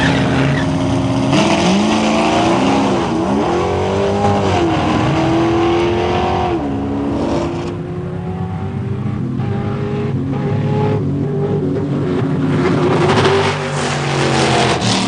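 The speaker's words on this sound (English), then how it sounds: "Here's Rob Morris in the near lane against John Lake, a battle of Camaros" Camaros drag racing at a muscle car drag event, engines roaring loudly as they launch and accelerate down the strip, with pitch rising and dropping through gear changes before a steadier fading drone.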